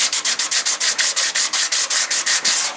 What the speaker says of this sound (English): what we're going to do now is take 180 sandpaper, 180 grit